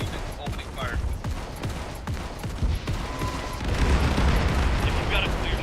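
Arma 3 combat gunfire: a steady run of close, sharp rifle shots crackling over a rumbling background, growing denser and heavier toward the end, with a voice talking underneath.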